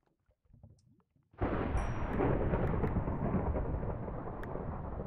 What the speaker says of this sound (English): Well, now it's thundering.